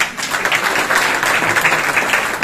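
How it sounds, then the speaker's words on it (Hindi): Dense, steady applause from a seminar audience in Rohtak fills the whole moment, many hands clapping loudly together with no voices over it. "एक बार चाहूंगा मेरे जोरदार तालियां।"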